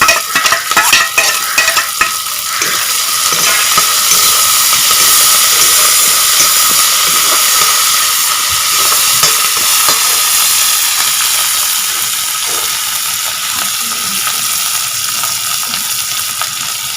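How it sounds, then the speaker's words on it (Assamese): Ginger and garlic sizzle in a hot pan, a loud continuous hiss with occasional stirring clicks, heard up close with no talking. "আদা ৰচুনখিনি দিওঁ আদা ৰচুনখিনি অলপ ভাজি ল'ম"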